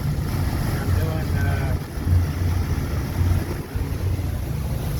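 A 2011 Chaparral 310 Signature boat cruises at about 7 knots under joystick control, giving a steady engine rumble with water rush and wind noise across the whole stretch.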